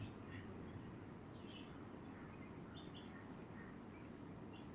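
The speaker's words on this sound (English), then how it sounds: "just listen to these birds." Birds chirp and sing in scattered short calls over a steady, loud background rumble, somewhat distant.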